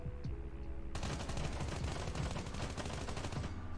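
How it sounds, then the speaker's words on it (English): Call of Duty gunfire in a solo-versus-squads match: rapid automatic bursts rattle continuously after a brief quieter start, loud and close with no talking. "I don't know how those shots didn't work on that guy"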